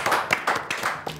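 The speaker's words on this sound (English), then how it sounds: "Let's give them a round of applause." A short burst of hand clapping from a small group after a children's spelling contest, a handful of quick close claps in uneven rhythm, fairly loud and without talk.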